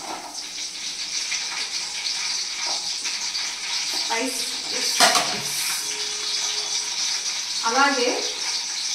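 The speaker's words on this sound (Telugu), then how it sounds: "ఆయిల్లో చాప్ చేసిన పచ్చిమిర్చి వేయాలి." Chopped green chillies sizzle in hot oil in a pan for mutton dum biryani, making a constant hiss with a few sharper crackles, while someone talks over it now and then.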